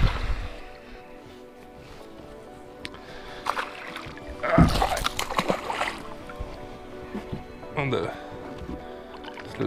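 Perch hooked while jerkbait fishing at night or dawn, splashing at the surface as it is reeled toward a boat; faint water sloshing rises into a few sharp splash bursts midway, under quiet talk from anglers.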